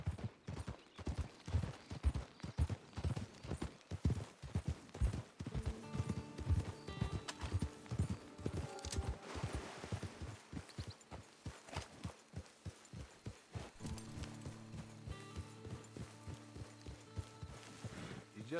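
Horse in the video game Red Dead Redemption 2, hooves beating in a fast rhythmic clip-clop that slows toward the end, with a snort or whinny and game ambience beneath, fairly close.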